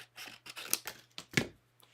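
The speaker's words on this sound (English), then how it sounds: "I'm going to cut this one just because I think I kind of need the room" Scissors snipping through card paper while making a birthday card, a string of short, close, quiet cuts in quick succession, alone without talk.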